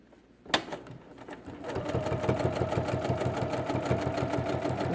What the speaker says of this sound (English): And I'm going to sew down to the corner.